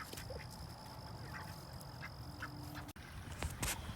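A backyard flock of ducks quacking in scattered short calls at moderate distance, with a faint steady hum in the background and a brief knock partway through.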